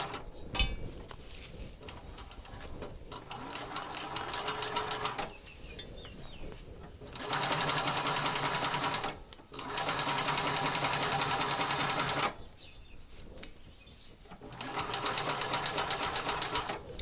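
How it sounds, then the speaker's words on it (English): A Cowboy CB6900 heavy-duty sewing machine top stitches at long stitch length in loud, rapid mechanical bursts of several seconds each, separated by brief pauses and quieter stretches. "So I've upped the stitch length to a 5, and I'm going to top stitch down this side."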